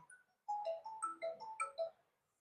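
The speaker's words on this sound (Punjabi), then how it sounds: "ਹੁਣ ਕਿਹਦਾ ਫੋਨ ਆ ਗਿਆ" A phone ringtone plays a bright, melodic run of electronic tones, clear and close, then stops; no one speaks.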